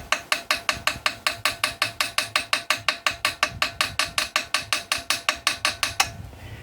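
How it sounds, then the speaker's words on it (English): A small hammer taps a burred screw head on a motorised bicycle ignition part in a rapid, steady run of sharp metallic strikes, about five per second, close and fairly loud, before stopping abruptly. "I'm going to use a small hammer to just ping over the burred over sections and repair the head of this screw"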